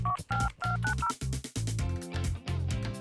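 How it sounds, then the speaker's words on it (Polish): A phone dials the emergency number 112, a quick series of three distinct dual-tone beeps followed by a louder electronic tone pattern, close and clear with no speech. "Chodź, naładujemy mój telefon i zadzwońmy pod 112."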